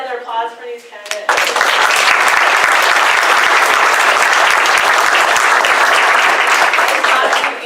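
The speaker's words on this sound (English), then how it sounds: "Can I get another applause for these candidates?" An audience at a city council forum bursts into loud, sustained applause for the candidates, beginning after a brief spoken moment and continuing evenly at close range.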